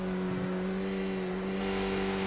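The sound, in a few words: race car passing on track in racing video game, Laguna Seca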